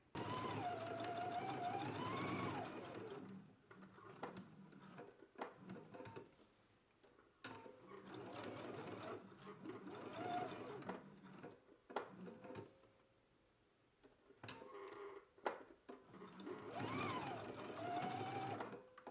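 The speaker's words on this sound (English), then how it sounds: "Let's go ahead and stitch it now, and then once we get right here to the edge, we just back stitch." A sewing machine stitches a waistband in several bursts with short pauses between, including brief reverse back-stitching at the edge, close by and without talk.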